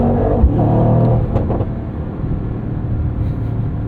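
A 2024 Mercedes-AMG GT 63 coupe with a 577 hp engine lets out a deep, loud rumbling rev heard from inside the cabin on an evening drive, with the roar fading to a steady low growl.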